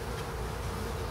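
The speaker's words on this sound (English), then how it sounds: "Nice gentle bees so far." Honey bees drone at an opened hive during a first spring inspection, a dense continuous buzz of many insects close up with no pauses.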